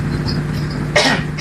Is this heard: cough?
yes